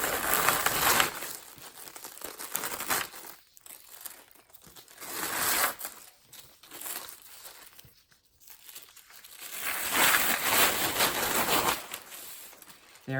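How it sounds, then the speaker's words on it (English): Glad Press and Seal plastic wrap being peeled slowly off a paper applique pattern, close soft crinkling and crackling in three separate bursts with quiet pauses between. "remove the Glad press and seal from the pattern and place it on the back side or the wrong side of our background fabric"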